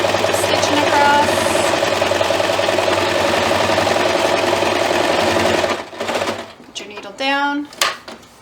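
A sewing machine stitching fabric for a book sleeve runs in a loud, close, steady whirring burst for several seconds, then stops as a voice speaks briefly.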